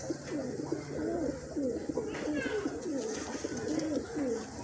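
Pigeons kept by a breeder in Islamabad, Pakistan, cooing in continuous overlapping rolling calls, close and fairly loud against a busy background, with no talk.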